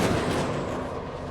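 A locked-on missile launches in the Star Citizen space game with a loud, continuous roaring blast lasting over a second, close and steady, with no voices.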